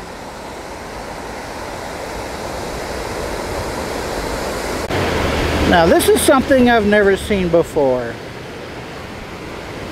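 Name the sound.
river water rushing over a dam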